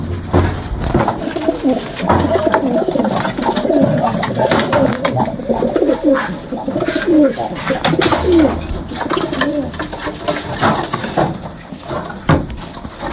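A male pigeon in a loft in Karnataka coos loudly and close in continuous rolling, throaty phrases, with other birds and light rustling behind it.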